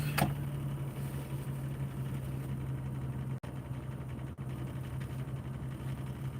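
A car engine idles with a steady low hum and even vibration, a constant drone held throughout with no talking.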